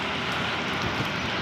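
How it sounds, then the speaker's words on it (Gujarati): Heavy, continuous rain in a village in Wankaner taluka: a dense, even roar of falling water, loud and close, with no talk. "એક તો આ રહ્યું છે વરસાદ સતત ચાલુ છે"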